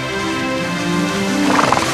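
A horse neighs loudly and close by, a long whinny with hooves clip-clopping underneath, steady and alone without talk.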